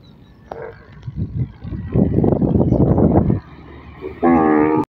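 Cattle lowing at a busy livestock market in interior Sindh, a couple of loud moos rising near the end over a steady crowd murmur of bustle and voices.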